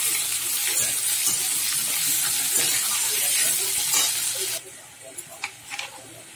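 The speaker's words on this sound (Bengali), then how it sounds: "পেঁয়াজ কাঁচা লঙ্কা এগুলো সব দিয়ে দিলাম তেলের মধ্যে। সরু সরু করে আলু কেটে রেখেছিলাম ওটা দিয়ে দিলাম।" Sliced onion, green chilli and thin-cut potato frying in hot oil, with a loud steady sizzle and hiss that cuts off abruptly, leaving faint kitchen clatter and brief knocks.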